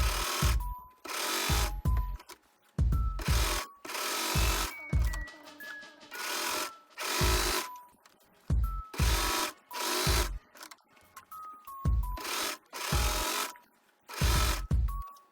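Sewing machine stitching stretched elastic onto a T-shirt, running in repeated loud bursts of rapid mechanical whirring separated by short pauses, with no talk.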